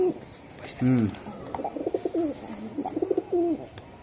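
Imported Budapest pigeons give soft, close, repeated rolling coos in a pen, with a voice talking over part of the calling.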